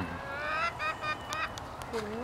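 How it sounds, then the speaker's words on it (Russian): A peacock in a city park of culture and leisure gives loud, honking wails, a few harsh calls in quick succession, then a shorter rising cry near the end, over open outdoor background. "Павлин он, конечно."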